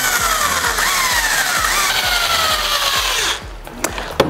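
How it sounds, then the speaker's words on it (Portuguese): A drill with a fine bit grinds rivet heads off a Shimano Deore bicycle cassette, whining loudly with a rhythmic pulsing for about three seconds before stopping, followed by a few sharp metallic clicks. "com uma broca fina, a gente trabalha aqui na remoção dele. Isso para a furadeira não fugir"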